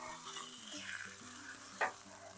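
Salmon sizzles on a grill while a spatula scrapes beneath it and flips it over, a steady close frying hiss with tonal hum in the background and a sharp scrape near the end.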